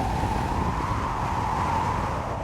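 Hurricane Andrew's winds roar steadily outside a house, heard from an interior hallway as a loud, continuous broadband rush with a sustained mid-pitched howl and no breaks.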